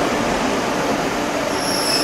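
A Tirupati Express train rolls along the rails with a steady, loud roar and a thin metallic wheel squeal near the end, with no voices.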